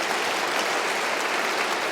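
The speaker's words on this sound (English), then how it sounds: "And I think we give them an extra round of applause." An audience at a university doctoral conferment ceremony gives the choir and brass quintet a round of applause, a dense, even burst of clapping that fills the whole moment.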